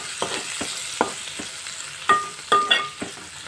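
Bitter gourd pieces with turmeric stirred in hot oil in a pan, a spoon scraping in uneven strokes over a steady close sizzle, with a few sharper clinks against the metal.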